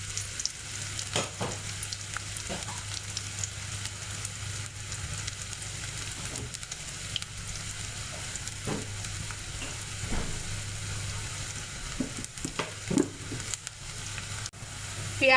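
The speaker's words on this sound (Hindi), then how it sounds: "अच्छा लाइट पिंक कलर आने तक हम प्याज को पकाएंगे।" Chopped onions fry and sizzle steadily in a pan for a moong dal tadka, with occasional stirring scrapes and clicks over a constant crackling hiss and low hum, close up with no talk.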